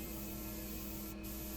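A paint spray gun set wide open sprays thin paint in a steady, close hiss over a constant low hum, with no pauses or talk.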